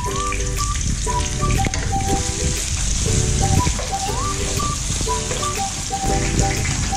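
Onion and garlic sizzling in hot oil in a pan, a steady dense crackle with no pauses, while a melodic tune plays along with it.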